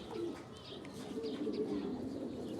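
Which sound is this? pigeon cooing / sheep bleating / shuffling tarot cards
pigeon cooing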